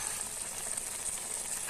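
Dosta leafy greens bubble and hiss in a cooking pot, a steady, close sizzling simmer with no other sounds.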